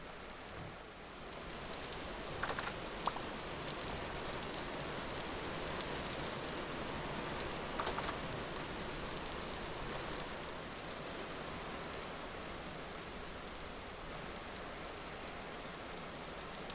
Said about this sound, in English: The rain is putting out my torches, so I should probably get a roof over this hut.